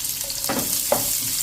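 Chopped medium onion hitting hot oil already crackling with mustard seeds and cumin, giving a close, steady hiss with a brief louder sizzle burst as it goes in.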